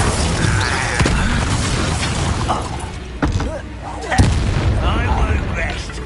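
Confringo blasting curses burst in Hogwarts Legacy combat, with several loud booming impacts and crackling debris amid ongoing battle noise and voices.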